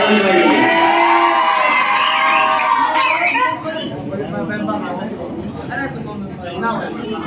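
A loud crowd cheers and whoops, then settles into lively chatter and scattered shouts, with voices layered throughout.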